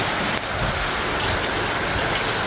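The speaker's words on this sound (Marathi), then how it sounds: "तोपर्यंत सुद्धा पाऊस थांबून नाही राहिला" Rain falls hard and close by, soaking a homestead where firewood is stored, as a constant dense patter of drops with no pauses and no voices.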